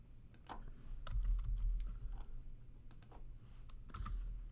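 A computer keyboard is typed on in irregular bursts of soft, quick clicks, faint and close, with no one talking.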